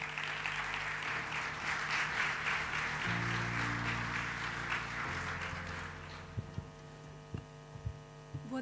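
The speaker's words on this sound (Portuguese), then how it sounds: "Cláudia Joaquim, para quem eu peço uma salva de palmas." An audience at the opening of a European funds exhibition gives a speaker a round of applause, dense clapping over a low electrical hum that fades after a few seconds, leaving the hum and scattered bumps.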